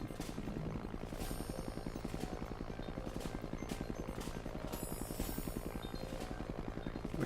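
A helicopter in the video game Disney Infinity beats out a fast, even rotor chop, loud and close, with a few sharper hits now and then over the steady thrum.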